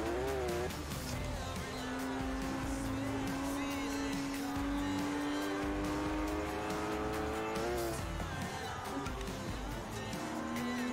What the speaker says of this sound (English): driving a Porsche on a rally course